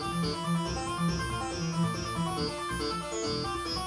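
Dense electronic tones from a modular synthesizer, with layered sustained pitches and pulsing accents that stay steady and fairly loud for about four seconds, without any voices.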